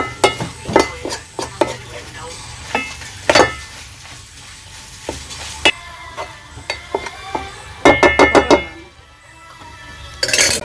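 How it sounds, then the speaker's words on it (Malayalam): Mango pieces are stirred in a sizzling pan, with a metal spoon clinking and scraping against the pan in irregular bursts, including a quick run of taps, all close and loud. "ആ മാങ്ങ നല്ല സെറ്റായിട്ടൊന്ന് ഇളക്കി കൂട്ടി കൊത്തി വയ്ക്കാം"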